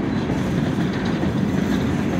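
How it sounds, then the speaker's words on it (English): A freight train of gondola scrap cars and coal hoppers rolls past close by, a loud, continuous rumble with rattling wheel clatter over the rails. "Gondola scrap train, it looks like, and then a coal train that shows scrap as well."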